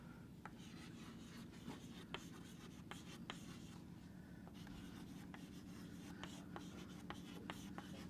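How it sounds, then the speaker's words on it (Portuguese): Chalk or marker writing on a board in a lecture: faint, irregular scratches and taps in quick strokes against a steady room hum, with no talking. "Deixa eu escrever aqui que faz mais sentido."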